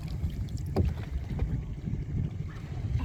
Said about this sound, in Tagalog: Ang hirap magsagwan, guys.